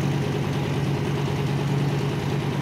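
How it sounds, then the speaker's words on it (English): A V10 engine idles with a steady, low, continuous rumble that stays close and loud throughout, with no other sounds over it. "It's a V10, so it never purrs like a V8. Okay. It always has a rumble."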